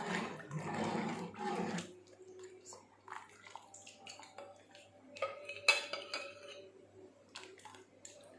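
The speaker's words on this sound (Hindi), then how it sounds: "हमने चम्मच को मुसलसल चलाते जाना है और आटे को डालते जाना है" A metal spoon clinks and scrapes inside a cooking pot while flour is added for beef nihari, sparse taps and stirring scrapes at low level after a brief rush of running water at the start.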